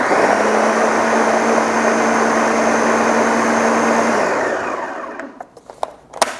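A kitchen mixing machine whirs loudly and steadily through crepe batter, then winds down and stops, leaving a few light clicks and knocks of handling.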